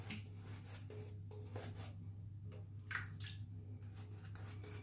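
Stirling Boat Drinks shaving soap is lathered on a face with a brush, giving soft, wet, squishy rubbing strokes in irregular bursts, close and fairly quiet.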